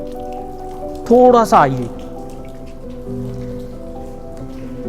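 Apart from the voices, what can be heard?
waterfall water falling from above in rock-cut caves in rainy season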